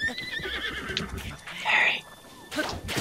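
A horse in The Legend of Zelda: Breath of the Wild gives a short, clear whinny amid game sound effects, with a person talking around it.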